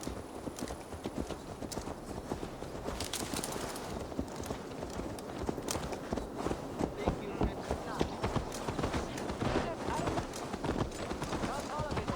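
Steady, rapid clip-clop of horse hooves in Assassin's Creed Valhalla runs throughout, dense and continuous under a busy layer of other game sounds and voices.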